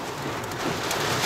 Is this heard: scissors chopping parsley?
no